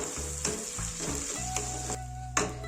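Boiled potato is stirred into a sizzling mixture in a frying pan while making stick cutlets, with steady frying hiss and several spoon scrapes and knocks against the pan, close and fairly loud with no talking.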